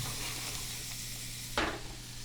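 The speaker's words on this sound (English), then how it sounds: "I'll go ahead and put the onion stuff in now. And it's hot too, so be careful." Chopped onions hitting a hot oiled pot for gumbo, a steady close sizzle with a sharper burst of crackling as more goes in near the end.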